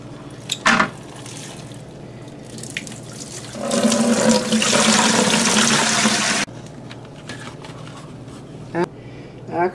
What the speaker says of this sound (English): Hopefully I can drain this tray without spilling a whole lot of water.